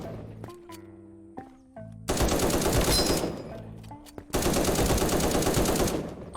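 Fully automatic gunfire in the Krunker browser shooter game, two long loud sustained bursts of rapid shots separated by brief pauses and a few single pops, close and dominant.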